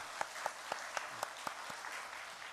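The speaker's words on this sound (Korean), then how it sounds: "박수 한번 하겠습니다." A small church congregation claps in a steady, evenly spaced rhythm, about seven or eight distinct beats, with soft room noise between the claps.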